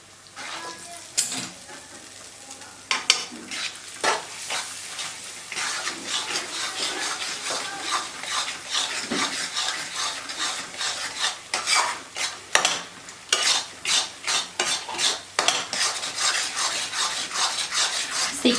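Adadiya mixture of urad flour and ghee being roasted in a pan over a slow-to-medium flame while a spatula scrapes and stirs it in repeated rhythmic strokes, with a soft sizzle underneath.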